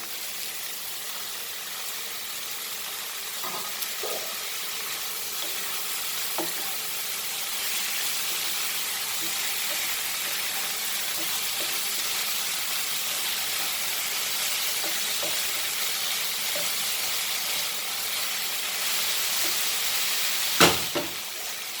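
Dry prawns fry in hot oil for a Goan curry, producing a steady, even hiss of sizzling with a few faint taps and one sharp clink near the end.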